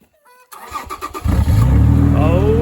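A Toyota car engine with its exhaust completely missing cranks and fires up, then settles into a loud, raw, steady idle with a bit of revving, close by.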